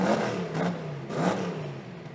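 A Mustang drag car at a sports compact drag racing event in Brisbane revs twice, each rise a brief throaty swell heard at a distance, with a lower engine note humming between the pulses.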